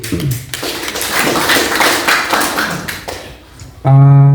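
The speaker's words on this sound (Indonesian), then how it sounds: "tepuk buat Bapak Ibu dulu" An audience at a morning community gathering with local officials in Riung Barat claps loudly and close in a dense burst of many hands for over three seconds. It fades briefly, then a sustained electronic tone cuts in.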